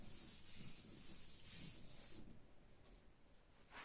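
An eraser or duster rubs across a board in a physics class on standing waves, a steady soft scraping hiss in uneven strokes, fairly close, with no talk over it.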